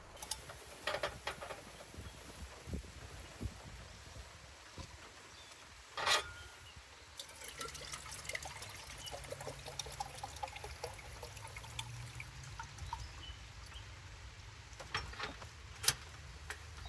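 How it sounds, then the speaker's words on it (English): Water just off the boil poured into an AeroPress for camp coffee outdoors, a soft trickling stream with scattered light ticks and clinks, fairly quiet and without talk. "Fill it with water just off the boil."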